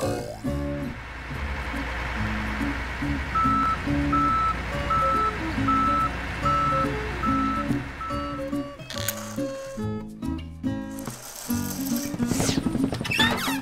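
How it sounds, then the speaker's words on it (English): Cartoon truck sound with a repeating reversing-style beep over a rumbling engine and steady music, followed by a busier stretch of clanks and effects toward the end. "Truck."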